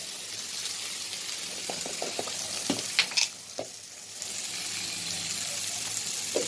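Onion, tomato and green chilli fry with salt and turmeric in a pan, a steady close sizzle with a few stirring scrapes and clinks partway through, no voices.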